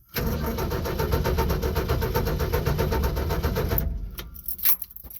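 A 1965 Ford F100 engine cranks in a fast, even starter rhythm for several seconds, then cuts off abruptly, followed by a few faint clicks and clanks, loud and close.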